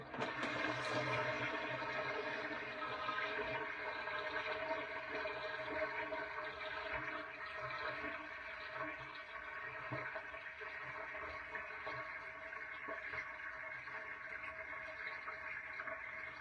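Water runs steadily while a yellowed vintage wedding dress is hand-rinsed during restoration, a loud, continuous, close rush and gurgle lasting throughout with no one speaking.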